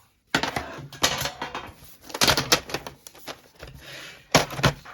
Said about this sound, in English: I'm going to open my colored pencils.